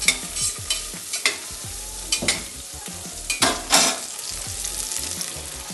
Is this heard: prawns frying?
yes